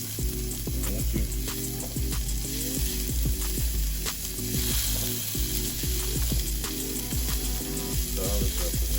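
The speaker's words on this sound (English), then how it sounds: "I want to stir some more garlic up in there" Garlic sizzles loudly in a frying pan for a haricot vert recipe, a dense continuous crackle broken by repeated scraping knocks of a utensil stirring it, close and alone.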